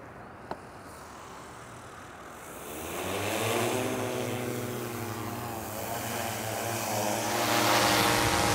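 A DJI Matrice 300 drone carrying a gas meter payload and H20T camera spins up and lifts off, its steady propeller whine rising and swelling close by after a brief quiet start, with no talk.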